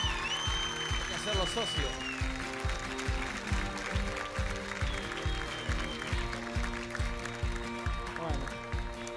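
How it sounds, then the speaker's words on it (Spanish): Studio audience on a Spanish-language television show claps in a rhythmic, evenly spaced beat, with music tones and someone speaking over it. "le damos un gran aplauso"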